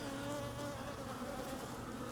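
Honey bees in the top box of a hive make a steady, soft buzzing hum that continues evenly throughout, with no voices.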